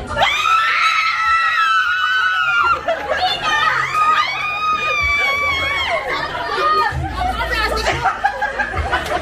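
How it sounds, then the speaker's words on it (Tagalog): Crowd of coworkers shrieking and squealing loudly at an office Christmas party with a white and denim theme, sustained high-pitched screams in waves with excited chatter and laughter mixed in throughout. "Puro tili!"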